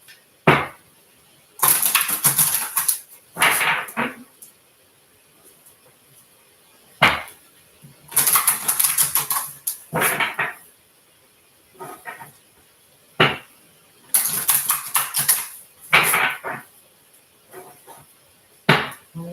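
Bursts of rapid papery riffling and flicking of tarot cards being shuffled, repeated several times with short pauses and a few sharp taps between, close and fairly loud.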